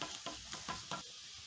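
A thin crepe sizzles in a buttered pan over a medium-low flame right after being flipped, with a steady close frying hiss and a few soft scraping pulses.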